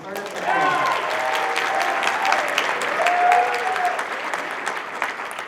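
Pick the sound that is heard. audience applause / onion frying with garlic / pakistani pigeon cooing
audience applause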